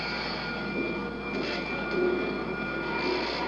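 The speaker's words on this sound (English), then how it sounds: "Train's coming through on your left side, car 1." A train rumbles past close by at Universal Studios Hollywood, heard from a tour car, a steady low roar with a faint high whine, continuous throughout.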